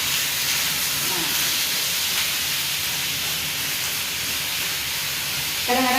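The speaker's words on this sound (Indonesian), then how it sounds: "kita tumis, kita masukkan babinya guys. Kita tumis lagi ya, sampai berubah warna." Pork stir-frying in a pan, a loud continuous hissing sizzle that holds steady throughout, with a brief voice murmur early and toward the end.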